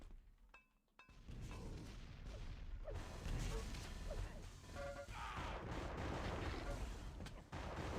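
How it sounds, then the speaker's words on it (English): Explosive weapon fire from a grenade launcher during a Quake Live duel match, a dense run of loud booming blasts and crashing impacts that fills most of the clip after a brief quieter opening. "I had a grenade launcher out by accident instead of my rail."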